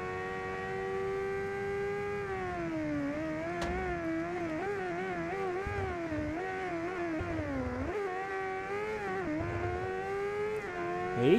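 A Honda Hornet motorcycle with a carbureted engine races in the video game RIDE 2, its engine droning and revving continuously, pitch rising and dipping through gear changes, steady and close with no voices.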